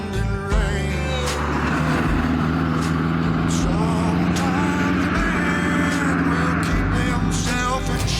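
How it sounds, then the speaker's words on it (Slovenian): A Ford Capri powered by a naturally aspirated 55 kW V4 petrol engine drives along, its steady engine drone loud and continuous, close by, with no talk. "Tega Caprija namreč poganja atmosferski bencinski motor V4, ki zmore 55 kW moči."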